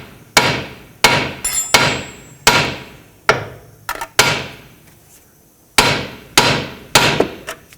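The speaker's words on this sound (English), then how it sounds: "Now you can take your hammer on the knuckle." Hammer blows on a 2009-2015 Toyota Prius steering knuckle to break the tie rod free, about ten sharp metallic strikes in irregular bursts, loud and close with brief pauses between.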